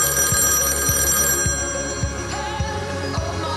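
A telephone bell ringing in a movie scene, with clear repeated ring bursts at a steady rhythm, close and alone.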